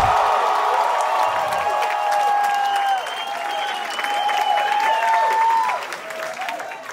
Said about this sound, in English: The crowd, there's 500 people going, Rudy!